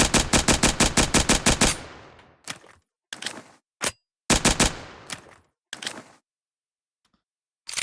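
Commando rifle fire from the video game Project Speedkills: a rapid automatic burst of about ten sharp shots, then several shorter bursts and single cracks separated by silent gaps, loud and close.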